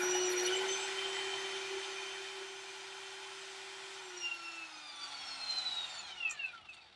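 A car polishing machine spins on its pad at speed 6 in a home garage, a steady fairly quiet whine that drops in pitch toward the end as other faint tool noises rise.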